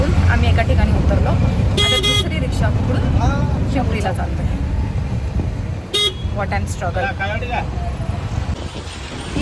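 An auto rickshaw rattles through busy city street traffic in Pimpri, with a constant engine and road rumble, passing car and bus noise, and two sharp horn blasts standing out, while people talk throughout.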